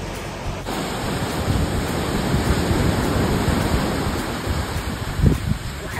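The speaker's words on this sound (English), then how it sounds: "Got a great couple of waves here." Ocean surf on an Outer Banks beach in North Carolina, suited to boogie boarding, rolls as a continuous broad wash with rising and falling swells and some wind buffeting.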